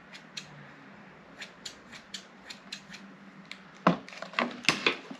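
Scissors snip at a plant inside a glass fairy garden container, giving a run of small crisp clicks at a steady pace, followed near the end by a louder cluster of closer, sharper cuts.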